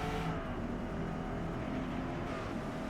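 Corvette E-Ray engine in Forza Motorsport on the Maple Valley track, a steady, continuous drone at close range with no breaks, alone without voices.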